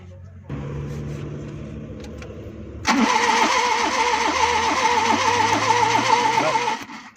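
A Suzuki Bolan engine runs with one spark plug wire pulled off, first a low steady idle, then a louder rough, uneven chugging that pulses rhythmically for several seconds close by before cutting out.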